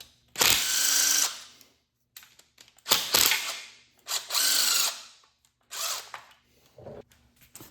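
Ratchet wrench working the two 8mm bolts off a timing chain tensioner on a 2013 Ford Taurus SHO engine during teardown, with four loud bursts of rapid clicking separated by short pauses and a fainter fifth burst.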